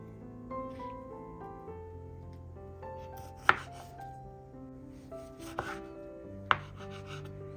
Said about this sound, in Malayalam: ഇപ്പോൾ സ്ട്രോബെറിയും കട്ട് ചെയ്തെടുത്തിട്ടുണ്ട്.